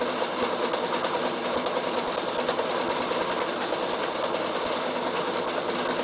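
A Bernina sewing machine free-motion meander quilting, a steady fast stitching whir running without pause, close and fairly loud.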